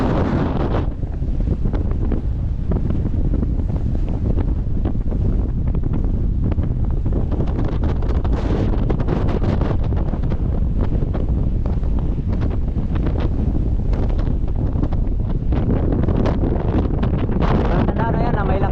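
Strong, storm-like wind on a trip from Mindoro toward Navotas, a loud continuous roar buffeting the microphone for the whole stretch, with surging gusts and no letup.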